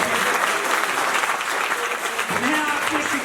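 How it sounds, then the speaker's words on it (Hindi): An audience at a college poetry gathering (kavi sammelan) applauds the poets on stage, with dense, steady clapping that fills the whole stretch and a voice faintly audible beneath it. "मैं चाहता हूं जितने मंच पर कवि हैं एक बार उन सब के लिए तालियां बजाएं"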